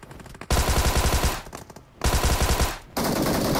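Two long, close, loud bursts of rapid automatic fire from an MG3 machine gun in the mobile battle-royale game PUBG Mobile, separated by a short pause, with another burst starting at the end.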